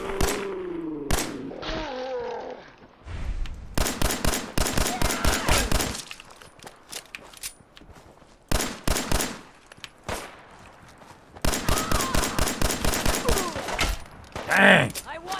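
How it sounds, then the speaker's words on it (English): Rapid bursts of automatic gunfire in the video game Fallout 4, several loud volleys separated by short gaps, with a few single thuds and a voice talking over the shooting. "Shoot her in the head."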